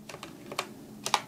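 Keys on a budget wireless mechanical keyboard are pressed in a quick, uneven run of close, crisp clacks, about half a dozen strikes with a pair of louder hits near the end.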